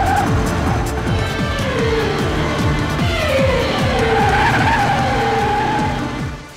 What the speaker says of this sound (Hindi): वो लोग बहुत तेज चला रहे हैं गाड़ी, बहुत तेज भाग रहे हैं